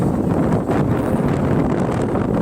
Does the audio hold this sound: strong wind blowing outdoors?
yes